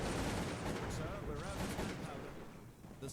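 Musket fire from British Highlanders attacking Prussian grenadiers in the Cossacks 2 strategy game, heard as dense overlapping battle noise and volleys held at a steady level throughout, with no clear speech.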